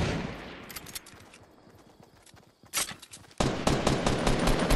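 Gunfire in Fortnite during a squad fight, with rapid automatic bursts that fade, then a sharp return into a loud sustained volley of shots close by.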